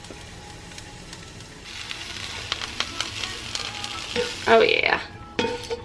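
Quinoa and vegetables cook in a hot pan, a light sizzle rising as they are stirred, with clinks and scrapes of a utensil and a short spoken remark near the end.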